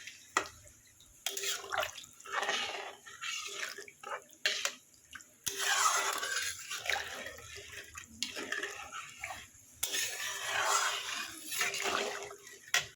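Water poured into a pan of Odia fish curry, giving splashy, sizzling bursts that come and go in several loud waves, close by and with no talk over them.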